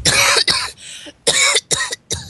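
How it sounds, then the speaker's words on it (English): A harsh run of coughing: five or six loud, rasping bursts in quick succession, close and with no one talking. "How long have you had that cough?"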